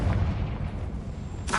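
Booming explosive blast of the Confringo spell in the Hogwarts Legacy video game, a heavy low thump followed by a rumbling tail and a second sharp burst at the end.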